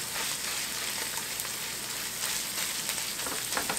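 Ground meat sizzles in a pan on the stove as a mixture is stirred in, a steady dense crackle without talk.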